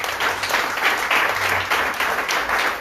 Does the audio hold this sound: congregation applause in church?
yes